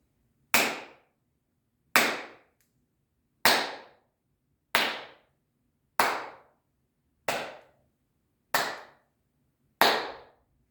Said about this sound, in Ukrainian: я буду плескати в долоні